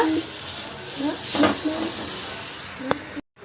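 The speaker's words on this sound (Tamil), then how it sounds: "தேங்காயை வந்து நம்ம நல்லா வதக்கிக்க போகிறோம்" Grated coconut being sautéed in a kadai over a low-medium flame: steady soft sizzle with scraping spatula strokes and a sharp utensil tap near the end before it cuts off.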